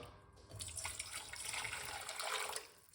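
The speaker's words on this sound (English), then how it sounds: "We're gonna put some hot water." Hot water is poured into a cooking pot in a kitchen, making a continuous close rushing and splashing stream that runs steadily for a few seconds before tapering off.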